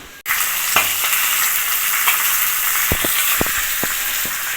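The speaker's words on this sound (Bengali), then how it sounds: "আর মাছটা আমি ভাজা বসিয়ে দিয়েছি।" Pieces of rohu fish fry in hot oil in a pan, making a loud, continuous sizzle that starts abruptly. A few sharp pops and spatters stand out near the end, close and without any talking.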